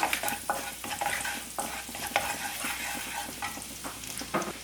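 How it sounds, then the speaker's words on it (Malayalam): Chopped garlic frying in hot oil over a high flame for gobi fried rice, with a constant close sizzle and a rhythmic series of stirring scrapes throughout. "എണ്ണ ചൂടായിട്ട് വരുന്ന സമയത്ത് ഇതിലേക്ക് ഒരു എട്ടലി വെളുത്തുള്ളി നല്ല ചെറുതായിട്ട് മുറിച്ചത് ഇട്ട് കൊടുക്കുക"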